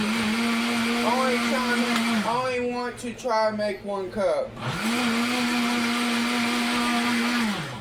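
A kitchen blender whirs loudly and steadily while mixing a chocolate chip milkshake, cutting out briefly midway as a person speaks, then starting up again at full strength.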